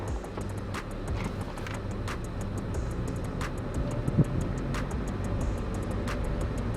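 Engine of a manual car pulling away in first gear as the clutch is released and gas applied, a steady low rumble heard from inside the cabin with regular faint ticking over it.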